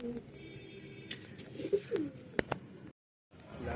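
Pigeons in a rooftop loft, including Giribaz pigeons, coo softly in low throaty bursts amid faint rustling and a few sharper clicks, with a brief silent gap before the ambience resumes.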